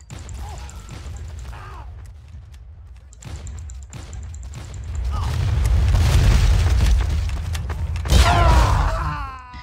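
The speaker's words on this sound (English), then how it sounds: "I blow myself up with my own grenade" A grenade explodes in the Team Fortress 2 video game: deep booming blasts and a loud, sustained rumble mixed with mechanical game effects and clatter, with no speech.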